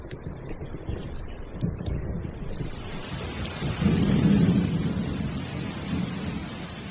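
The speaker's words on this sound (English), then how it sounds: "Thunderstorms may be brief here, but they often presage long rainy spells." Heavy thunderstorm rain pours steadily in a dense hiss, with low rumbling thunder swelling midway and then easing back into the downpour.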